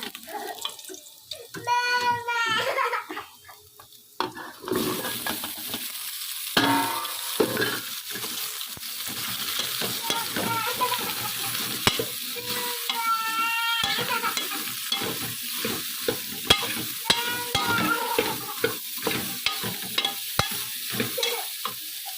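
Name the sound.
pumpkin frying and being stirred in pan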